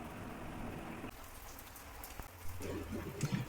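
Rain falls steadily outside a house with the door shut, a soft continuous patter with scattered nearer drops hitting a surface, moderately quiet and with no voices.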